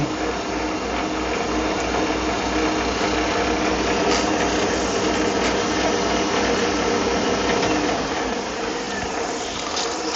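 A Fiat 126 camshaft is ground in a workshop, producing a loud, close, continuous mechanical whirring and grinding that holds steady throughout with no talk.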